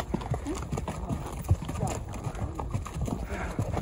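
Horse hooves clip-clop in an irregular rhythm on rocky ground while being ridden, with scuffs and knocks close by.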